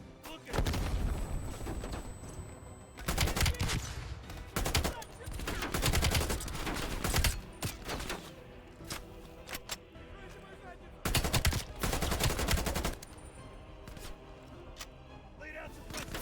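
Gunfire in the video game Call of Duty Black Ops Cold War: repeated bursts of automatic weapon fire and heavy booms in a chaotic firefight, loud against a constant battle din with shouted voices mixed in.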